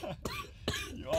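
A person coughs hard in quick bursts, three or four harsh rasping hacks in a row, close to the mic during a podcast recording with no talking in between.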